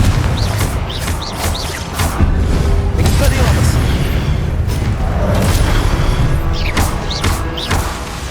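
Confringo spell blasts in the Hogwarts Legacy video game hit with loud, rolling booms and crashes over dense battle noise, with a voice calling out amid the continuous din.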